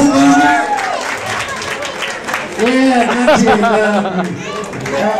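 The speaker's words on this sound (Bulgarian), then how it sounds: "Браво! Браво, пляскайте му!" At a New Year's Eve show, an audience claps and cheers in a lively burst under loud overlapping talk and children's voices close to the microphone.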